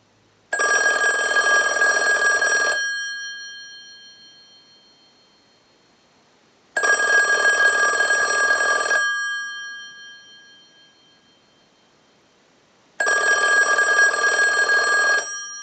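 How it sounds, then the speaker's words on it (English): A 2500 desk telephone rings in three loud, evenly spaced bursts of about two seconds each, its bell ringing bright and close and decaying into silence between rings, driven by a test analyzer's ring cycle on a repair bench. "use the analyzer and send a ring cycle like you were getting a call"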